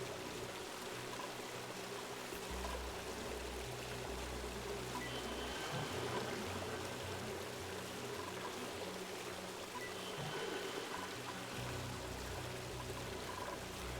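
Water falling and trickling from an overpressurized tile in a video game, a steady faint stream sound with low rumbling underneath, continuous throughout with no voices.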